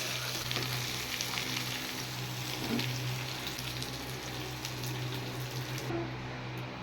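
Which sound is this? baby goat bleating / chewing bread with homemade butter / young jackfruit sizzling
young jackfruit sizzling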